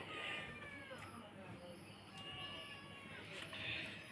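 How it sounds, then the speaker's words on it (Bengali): A cat meows repeatedly, close and clear, a series of rising and falling cries spread across the few seconds over a soft background hiss. "এই যে বিড়ালটা পেঁয়া পেঁয়া করে"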